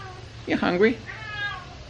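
A cat in Bali gives one close, drawn-out meow, and a person speaks briefly over it.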